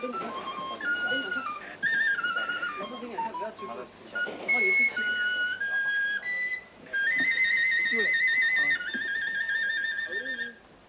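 A penny whistle plays a bright, quick flourish of high, piping notes in several phrases, fairly loud and clear, at a state-visit afternoon tea aboard the Royal Yacht Britannia in China.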